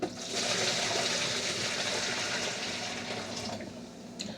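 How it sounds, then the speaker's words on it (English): Water being poured off cooked al dente lasagna noodles, a steady rushing splash of liquid lasting several seconds, close and loud, easing slightly toward the end, with no talking. "me pour some of this water off."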